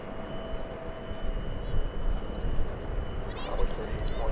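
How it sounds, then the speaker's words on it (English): An American Eagle Embraer 175LR jet from Durango touching down at DFW, a steady broad roar of engine and rollout noise with a faint high whine, continuous across the moment with a few louder swells. "American Eagle Flight 3744 from Durango. Just touching down there."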